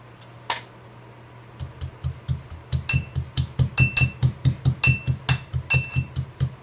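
Garlic is chopped finely on a board for a Marathi leafy-greens dish, starting with a few scattered knocks and settling into a quick, steady series of sharp, close knife taps, with a low hum underneath.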